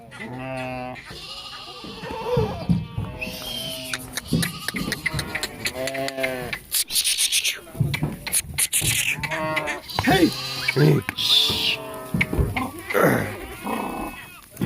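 Goats, including a sturdy billy goat, bleat repeatedly and loudly close by, their calls overlapping with people talking and some general commotion.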